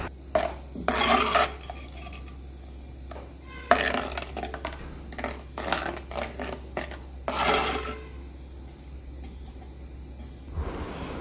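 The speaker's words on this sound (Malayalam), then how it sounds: "ഇതിലോട്ട് നമ്മൾ അരച്ച അരപ്പ് ചേർത്ത് നല്ലതുപോലെ ഇളക്കാം" Ground coconut paste is stirred into a curry of drumstick, turmeric, jackfruit seeds and mango in a clay pot, giving intermittent scraping and rubbing strokes of a spoon against the pot, close and moderately loud, with quiet pauses between bursts.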